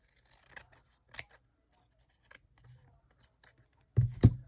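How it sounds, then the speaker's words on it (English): Scissors cut through paper while an envelope is made, a few light snips spread out, then two loud close cuts at the end, with no talk. "I'm just going to cut here"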